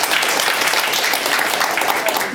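Dense applause from a crowd at an inauguration ceremony for the president of a family clan association, steady and fairly loud throughout, with no gaps.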